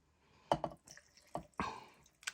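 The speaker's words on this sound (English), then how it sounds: "Next we're going to fill our jars with water." Water splashes and trickles into canning jars in a few short bursts, close by, with drips and small wet impacts between pours.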